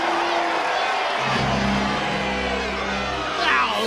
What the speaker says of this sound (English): look at them cheering that little pipsqueak